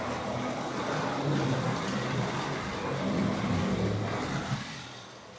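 A car circles a race track at Castle Rock Raceway, its engine a steady mid-distance drone that swells and eases slightly as it passes, ending with a brief knock as the sound tapers off.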